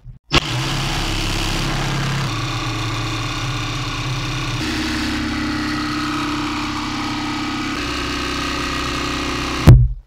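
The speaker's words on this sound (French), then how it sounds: "une scie sauteuse avec une lame à métaux, avec des toutes petites dents" A jigsaw with a fine-toothed metal-cutting blade buzzes continuously through plexiglass for several seconds, its steady motorized whine shifting in pitch partway through before stopping abruptly.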